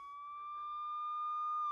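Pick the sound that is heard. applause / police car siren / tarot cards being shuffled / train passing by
police car siren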